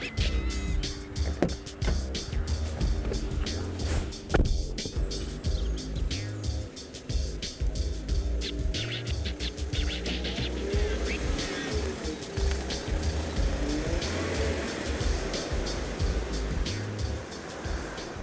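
Ford Ranger pickup truck driving on the road, with steady engine drone and road rumble running throughout at moderate level.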